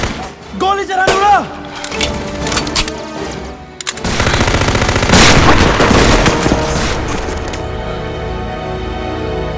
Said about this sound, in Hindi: ट्रिगर दबाएगी, फायर हो जाएगा